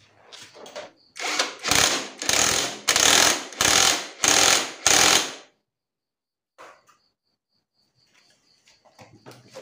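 Bolting parts of a Vega ZR motorcycle hand clutch assembly with an impact tool: six or seven loud, close, evenly spaced rattling bursts, then quiet with faint tool handling.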